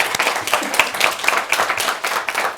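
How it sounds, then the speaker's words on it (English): A small workshop audience claps in a brief round of applause, close and fairly loud, with distinct individual hand claps over a couple of seconds. "I'd give you a round of applause."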